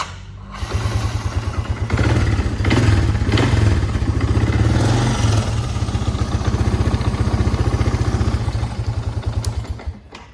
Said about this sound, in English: and it fires up and runs also.